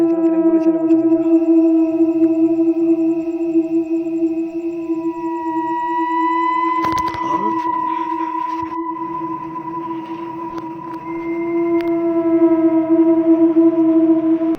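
An ambulance siren sounds at night, holding a loud, sustained wailing tone that shifts pitch midway, with a brief clatter of noise partway through before the steady siren resumes.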